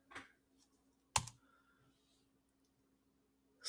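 A few sparse, close keystrokes on a computer keyboard while a dimension value is typed, with one sharp click standing out among quieter taps in near silence.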